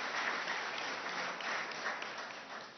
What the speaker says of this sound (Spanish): Vamos a darle un aplauso a Telesur y a Hispan TV